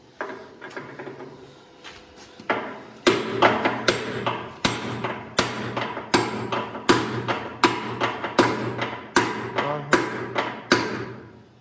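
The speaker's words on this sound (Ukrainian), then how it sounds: "Давайте, може, оцю голову да молотком потихеньку," Steady hammer blows strike metal in a regular rhythm, about a dozen sharp, ringing hits close up after a few lighter taps, with no talking.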